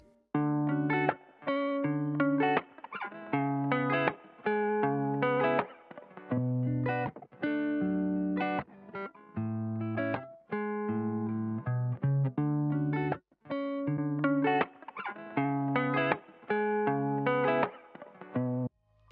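An electric guitar plays choppy chords and short phrases through a warbling, lo-fi effect, with brief pauses between passages.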